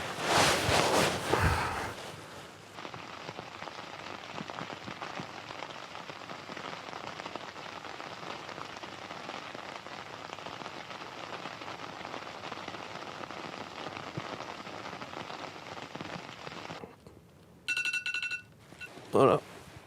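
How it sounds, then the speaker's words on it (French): Rain patters on a tent in a steady, close, fine crackle of drops that runs unbroken for most of the stretch, preceded by a brief loud rustle and followed by short electronic chimes near the end. "La pluie sous la tente, ça j'adore."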